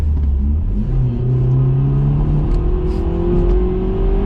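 A BMW 114i engine revs up loudly and continuously, its pitch climbing steadily as it accelerates, close and dominant throughout.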